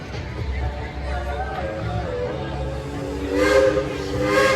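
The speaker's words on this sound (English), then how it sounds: "And there's a train whistle." A steam train whistle sounds over a hissing, noisy background with crowd chatter at the Cedar Point amusement park, rising louder toward the end.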